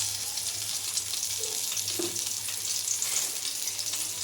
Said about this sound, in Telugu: పచ్చిమిర్చి వేసి వేయించండి